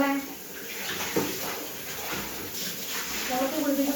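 Water splashing and sloshing during a first bath, close and continuous, with voices talking over the sound throughout.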